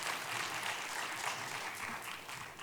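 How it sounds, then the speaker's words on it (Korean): A church congregation at a Wednesday worship service breaks into steady, dense applause, soft and somewhat distant, continuing evenly without pause. "하나님께 영광의 박수를 돌려드리겠습니다."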